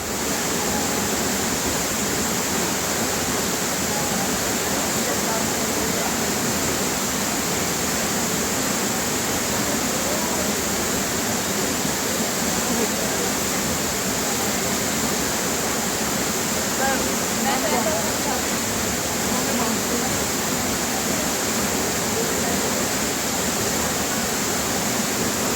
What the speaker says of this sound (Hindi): गाइस यहाँ तो ऐसा दिख रहा है कि बट ये है वाटरफॉल